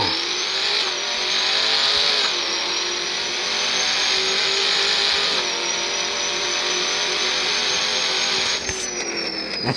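A Ford Mustang engine revs hard and holds at high pitch for nearly ten seconds, dipping briefly at a few points as it shifts, loud and close with a steady whine throughout.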